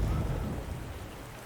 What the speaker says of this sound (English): you really need a beast of a computer to deal with the rain, because it's all physical